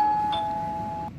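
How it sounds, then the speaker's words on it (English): A doorbell rings once with a clear sustained chime tone, close and fairly loud, that fades out after about a second in a quiet home. "The doorbell rang."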